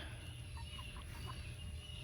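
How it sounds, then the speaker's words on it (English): Soft, low clucks from chickens come in a short series close by, under a steady background hiss. "Chickens are following me."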